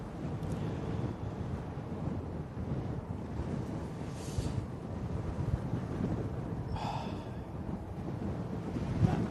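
A crosswind buffets the microphone outdoors beside Manchester Airport, a steady low rumbling roar with a few gusty swells, fairly loud and continuous, with no clear voices.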